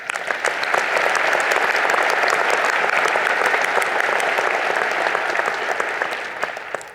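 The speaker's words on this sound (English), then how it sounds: "So we should begin with a round of applause for you and for everyone here" Sustained applause from a large audience at a graduation ceremony, dense and steady throughout with scattered sharper claps, holding loud before tapering slightly at the end.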